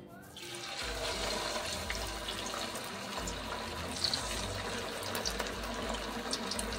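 Chicken pieces sizzle in hot oil in a kadhai on a gas stove, a steady close hiss rising sharply as they go in and continuing throughout.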